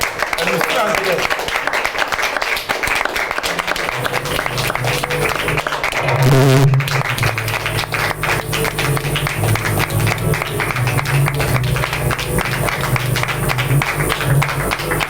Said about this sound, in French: On va se lever et applaudir la maman.